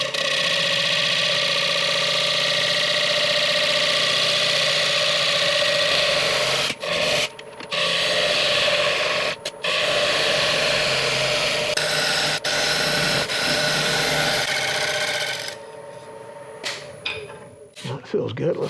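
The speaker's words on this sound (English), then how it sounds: "Need to go back to the gouge, remove some big wood here." A gouge cuts into a mulberry bowl blank spinning on a wood lathe, giving a steady, loud rasping scrape that runs almost nonstop with a few brief breaks. A voice talks over it now and then.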